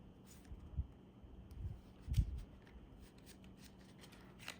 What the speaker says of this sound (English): sort through this a little bit here. Shuffle this up.